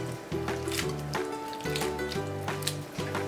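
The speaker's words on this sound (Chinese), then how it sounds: "把整理好的蘑菇清洗一下" White beech and small grey mushrooms are swished and squished in water while being washed, with repeated wet sloshing strokes in a steady rhythm, close and fairly quiet, over a faint low background tone.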